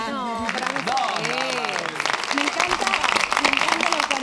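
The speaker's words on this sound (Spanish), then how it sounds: "Más aplausos" Studio audience applauding on a live Spanish-language morning television show, clapping that builds from under loud talk and singing into a steady wash of applause.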